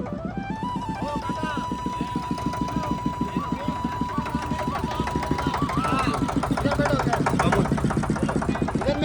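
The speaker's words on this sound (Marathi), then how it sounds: "आपली बोट झालेली आहे चालू" A motorboat engine chugs steadily after starting, its rapid even pulse running throughout at moderate level while a voice talks over it.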